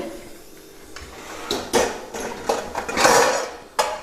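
A metal pressure cooker is slid and set down from one gas burner onto another in a home kitchen, giving a few clanks and knocks with a scraping shuffle, heard close and alone.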